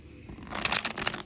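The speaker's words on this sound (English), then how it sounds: "As I shuffle the cards," Tarot cards being shuffled by hand, a soft papery riffling and sliding that builds to a denser patter of flicks, close and fairly quiet with no talking.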